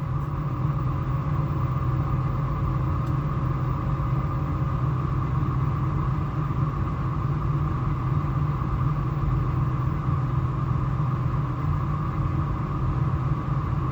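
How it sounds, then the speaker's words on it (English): Steady, continuous rumble of an old car engine running at a constant pace, loud and close, with no voices. "is that the car in front of me? The old-timey car darn making that noise?"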